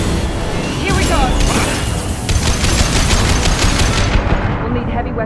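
Heavy weapons gunfire in the Mass Effect 2 video game: sustained, loud, rapid automatic bursts mixed with booming impacts, one continuous barrage that stays intense throughout before tailing off at the very end.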